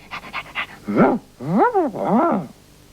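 A voice imitates a dog, starting with a few quick panting puffs and then three drawn-out, rising-and-falling woofs, close and fairly loud.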